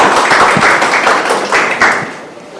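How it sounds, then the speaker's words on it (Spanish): An audience at an introductory law course claps together, a dense, steady patter of applause filling the room, then thinning out toward the end. "Queremos dar fuertes palmas"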